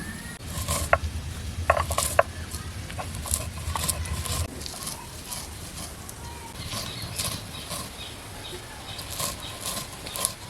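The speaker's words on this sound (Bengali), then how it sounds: "আজকে পুরো সম্পূর্ণ বাটার মশলায় রান্না করব, ওই জন্য মশলাগুলো বেটে নেব।" Fried spices ground into a paste on a flat grinding stone for village-style country chicken curry: steady rhythmic scraping and rubbing with small clicks and knocks throughout, nearby, with faint bird chirps and brief voices in the background.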